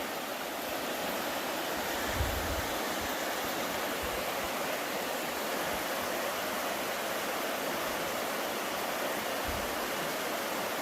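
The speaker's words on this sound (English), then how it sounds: "We thought we were going away from the river, and there it is again." A river in Banning State Park, Minnesota, pours past in a dense, constant rushing hiss, steady and fairly close for the whole stretch with no voices.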